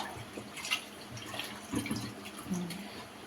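Water is swirled and rinsed around inside a pressure cooker vessel, with soft splashing and a few drips and sloshes, fairly faint and close.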